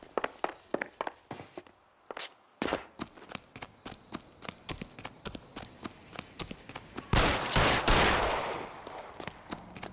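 Gunfire in the 1940s Los Angeles crime game L.A. Noire, a long string of sharp, evenly spaced cracks, loud and close, building into a denser, heavier burst of shots near the end.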